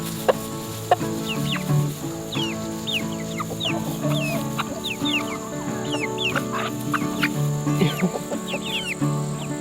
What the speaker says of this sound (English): Alright, the other chickens are gonna get it.